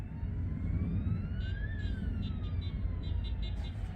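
A fire engine siren wails past at a moderate distance, its tone sweeping up and down over a steady traffic rumble, with faint higher horn-like blasts near the end.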